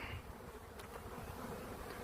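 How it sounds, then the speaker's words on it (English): A honeybee swarm arriving from a nearby hive and settling on grapevines makes a steady, dense buzzing drone that holds without pause in an outdoor garden. "we got a bee swarm coming in from one of my hives, landing right there on the grapevines"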